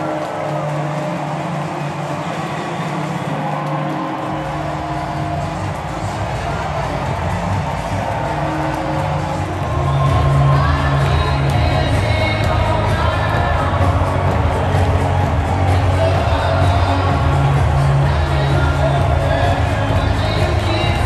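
A stadium crowd of more than 46,000 celebrates the Phillies' NLDS series win over the Braves with a steady, dense roar that grows louder partway through and never lets up.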